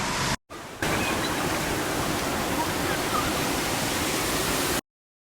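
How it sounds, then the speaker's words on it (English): Cedar Creek Falls, a waterfall between Proserpine and Airlie Beach in tropical North Queensland, roars as a loud, continuous broadband rush heard from close by, with a brief cut near the start. "that is Cedar Creek Falls, halfway between Proserpine and Airlie Beach"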